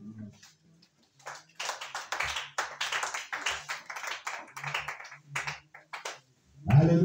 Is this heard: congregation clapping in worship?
yes